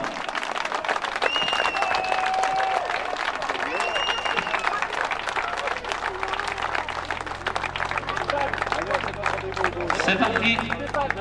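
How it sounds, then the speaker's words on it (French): Audience applause at the prize ceremony of the Montée historique de Châtel historic hill-climb rally, steady dense clapping throughout with whistles and crowd murmur mixed in, fairly loud and close. "Applaudissements."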